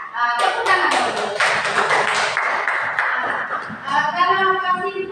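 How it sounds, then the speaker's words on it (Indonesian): Children in a classroom clap for a student, with a burst of sharp, quick handclaps that settles into a rhythmic patter, mixed with voices. "Tepuk tangan dulu."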